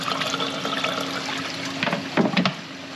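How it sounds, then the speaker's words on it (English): Water flows steadily through an aquarium algae scrubber and down its screen, making a continuous rushing trickle close by, with a few louder splashy surges near the end. "Water just flows in here, flows down the screen"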